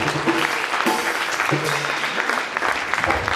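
Church congregation applauding at a bishop's service, a steady wash of clapping filling the space throughout, with a few voices calling out over it.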